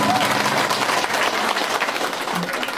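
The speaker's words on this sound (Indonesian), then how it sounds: "Tepuk tangan buat kita semua." Campaign volunteers at a rally clap together in a loud, close burst of applause, a dense patter of hands with some voices mixed in underneath.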